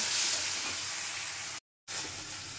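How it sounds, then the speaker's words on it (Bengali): A spice paste frying in a pan with a splash of water gives a steady, close sizzling hiss, broken by a brief silent cut before the sizzle resumes. "এই মশলাটা কষাবো একটু জল দিয়ে দিয়ে।"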